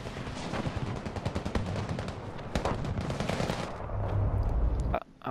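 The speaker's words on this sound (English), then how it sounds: "That's a semi-automatic! As far as I know, that's a semi-auto rifle." Semi-automatic rifle fire in the video game Battlefield V, dense bursts of rapid shots and overlapping gunfire in a busy battle mix that drops out abruptly near the end.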